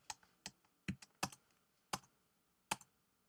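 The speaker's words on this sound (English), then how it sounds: "I have no radio button, so I have to use the keyboard." Computer keyboard keys clacking in a sparse, uneven rhythm during a MySQL install on Windows Server 2008 R2, about eight sharp presses spread out with pauses between them, close and clear with no voices.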